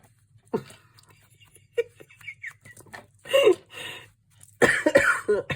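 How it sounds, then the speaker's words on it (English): A few scattered coughs, the later ones louder and harsher, between quiet stretches with faint background hum. "I can't laugh, it makes me cough."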